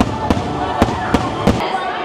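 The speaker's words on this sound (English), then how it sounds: "And they're dancing to fireworks." Firework bangs pop at intervals at Disney's Magic Kingdom, four or five sharp cracks against a busy background of chatter and music.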